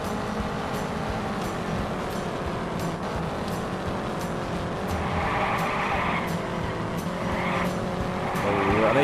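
A 1961 Epperly-chassis race car in an Indianapolis 500 Evolution career race at Trenton slides through a corner, tire squeal rising over a steady engine drone, with faint crowd-like noise under it.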